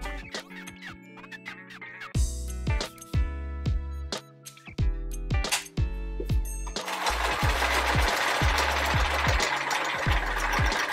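Sewing machine stitching through quilt fabric and paper, a fast, steady mechanical whir with rhythmic needle thumps that runs in bursts and stops, then continues louder and denser to the end.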